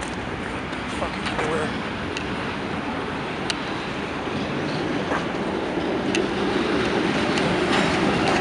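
A CSX freight train rolls past on the rails in Montreal, Quebec, making a steady, loud rumble with faint rhythmic clicks from the wheels throughout.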